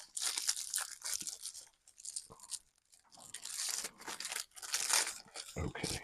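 A tough, fairly heavy plastic shipping bag is torn and crinkled open in repeated bursts of ripping and crackling, close up, with short pauses between pulls.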